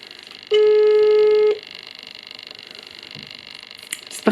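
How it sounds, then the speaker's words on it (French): Outgoing phone call ringing back, a single steady one-second tone heard clearly up close, followed by quiet room background and no talking. "Ça sonne."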